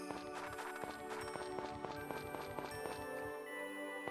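A horse clip-clops at a steady walking rhythm in the farming video game Story of Seasons: Friends of Mineral Town, hooves tapping evenly over light background music.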